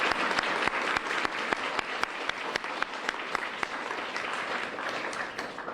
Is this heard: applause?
yes